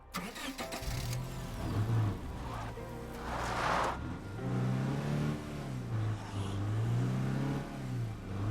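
A car engine in the zombie game State of Decay 2 hums and revs steadily, its pitch rising and falling as it accelerates and eases off, loud and continuous with no talk.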